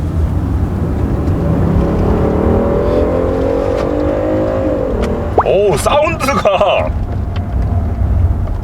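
A Kia K9 with a 3.3-litre turbo engine rises in pitch under acceleration while driving, then revs sharply through quick blips near the end. A voice briefly exclaims over it.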